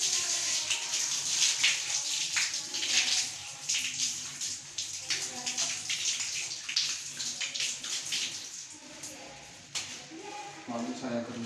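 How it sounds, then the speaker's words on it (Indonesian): Hands being washed with soap under a running tap, a steady broadband splashing and rubbing that continues for about eleven seconds, close and fairly loud. "akan cuci tangan secara WHO dan menggunakan sabun"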